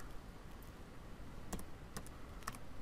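Keys on a computer keyboard tap out a value in a few faint, sharp clicks spaced across a quiet room, the last keystroke landing like an enter press.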